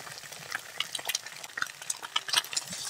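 Egg being stirred and broken up into small scrambled bits in a pan with a little oil and salt, quiet sizzling under repeated scraping and clinking of the utensil against the pan, close and steady.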